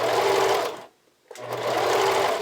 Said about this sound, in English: Switch your machine to a zigzag stitch and just anchor that on with a little back tack